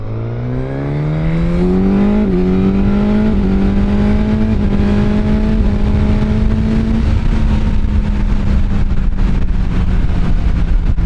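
A Suzuki GSX-S1000 motorcycle at full throttle in A mode, its engine note climbing steeply through several quick gear changes, then holding a loud, steady roar close by.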